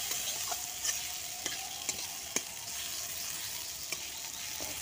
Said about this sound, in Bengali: এবারে এটা সম্পূর্ণ তেলের মধ্যে ভাজা হবে, আর মাঝে মাঝে আমি উল্টি পাল্টিয়ে নিচ্ছি।